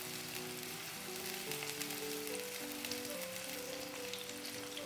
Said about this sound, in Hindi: अब इसमें जाएगा 1 कप चॉप की हुई प्याज, इसे भी हम फ्राई करेंगे।